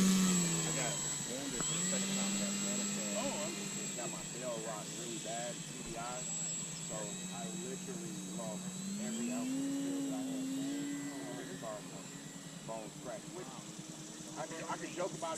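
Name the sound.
E-flite Extra 300 RC airplane flying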